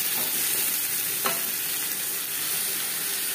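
Hog plums with panch phoron fry in hot oil, a steady close sizzle running throughout with one brief stir or scrape of the pan near the middle.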